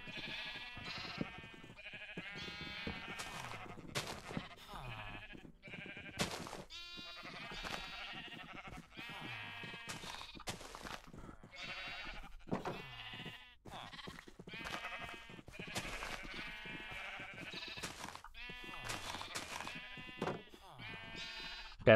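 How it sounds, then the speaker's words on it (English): Repeated Minecraft sheep bleats, some high and thin like baby sheep, overlapping in a steady stream alongside a talking voice. "looks like two baby sheep got out"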